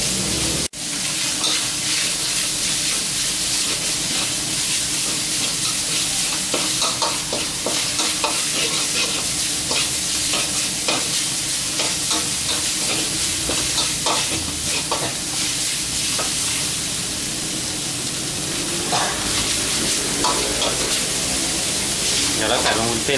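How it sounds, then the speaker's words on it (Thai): Minced pork and garlic stir-fry in a hot pan, a loud continuous sizzle with scraping and tossing of the spatula close by, and someone speaks briefly over the frying. "ผัดให้เข้ากันนะ"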